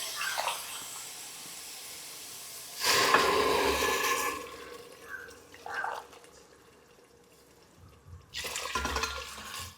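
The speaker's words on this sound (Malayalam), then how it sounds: "നല്ല ചൂടുള്ള വെള്ളം തന്നെ ഒഴിച്ചു കൊടുക്കുക" Hot water is poured from a vessel onto broken wheat for upma in a home kitchen, two bursts of splashing pouring about a second or so each, close and moderately loud, with quiet gaps and faint clinks between them.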